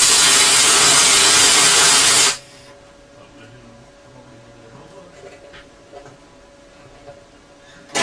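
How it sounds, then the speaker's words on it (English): A CO2-shielded welder plug welding on a front section, giving a loud, steady crackling hiss for about two seconds before cutting off abruptly, followed by quiet shop background with faint scraping. "Oh, welding time. I'll plug weld that front bit."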